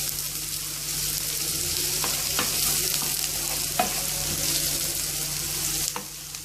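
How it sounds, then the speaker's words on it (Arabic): Onions sauté in a pan for a pasta-and-kofta meal, a continuous close sizzle with intermittent stirring scrapes and clinks and a low steady hum beneath, no voices. "وهبدا ان انا ادبل البصل بتاعي."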